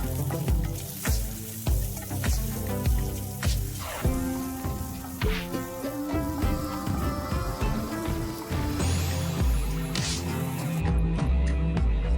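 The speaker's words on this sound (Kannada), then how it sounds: "ಒಂದೂವರೆ ಟೊಮೊಟೊನ ಕಟ್ ಮಾಡಿ ಹಾಕೊಳ್ತಾ ಇದ್ದೀನಿ ಇನ್ನು ಸ್ವಲ್ಪ ಹೊತ್ತು ಫ್ರೈ ಮಾಡ್ಕೊಳ್ಳೋಣ" Garlic and chopped tomato sizzle steadily in a hot pan while being fried for a crab sukka, a loud continuous crackle with occasional stirring clatter, close and with no voices.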